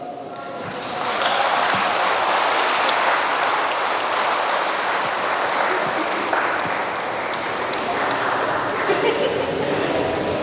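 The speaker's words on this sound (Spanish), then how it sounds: "les damos un aplauso" Applause breaks out from wedding guests right after the couple's kiss at a church ceremony in San Agustín Oapan, a steady, dense clapping that swells in after a second and holds loud and even to the end.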